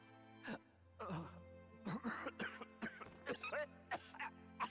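Repeated sharp coughs and throat-clearing bursts, close and fairly loud, recurring unevenly over a steady low hum.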